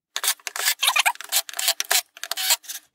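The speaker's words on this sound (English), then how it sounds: "And now to tighten all the screws" A screwdriver tightens screws on 3D printed drivetrain parts in close, quiet bursts of scratchy turning and small clicks, with brief pauses between twists.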